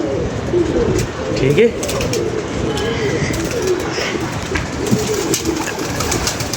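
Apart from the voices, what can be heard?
pigeons cooing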